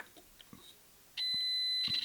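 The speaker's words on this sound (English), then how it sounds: "So you'll get a beep if there's no breaks in a circuit." A multimeter sounds a steady continuity beep while probing connected pins on an RC receiver, one sustained tone of under a second that cuts in sharply and stops after a few quiet clicks.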